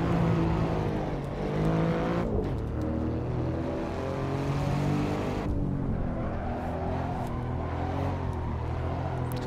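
Alfa Romeo Quadrifoglio in the Assetto Corsa racing game, sliding sideways on track with a loud, continuous engine note that rises and falls with throttle, plus tire scrub and brief dips in level between bursts.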